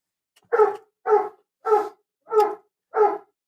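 A dog barks five times in an even rhythm, each bark close, loud and separated by short pauses. No voices are heard.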